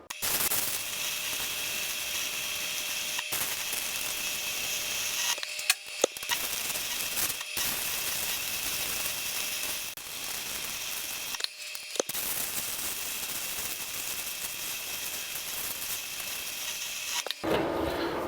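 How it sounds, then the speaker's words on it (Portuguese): A gasless MIG welder, the Pro Euro 150 set at maximum, melts welding wire continuously with a steady, close crackling hiss that runs unbroken for long stretches, interrupted by a few short pauses. "3 varetas de solda derretidas de uma vez só"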